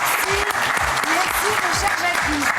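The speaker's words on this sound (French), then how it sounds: "on l'applaudit très très fort." Audience applause at a live improv show, broad sustained clapping filling the whole stretch with voices calling and cheering over it.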